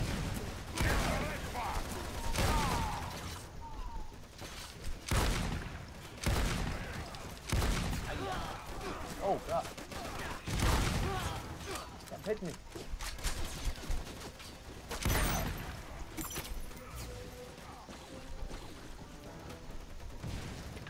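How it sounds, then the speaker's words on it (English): Shotgun blasts from the video game Lost Planet 2, booming in heavy, repeated bursts with short gaps between them, while players keep talking over the gunfire. "this is definitely one of the better video game shotguns"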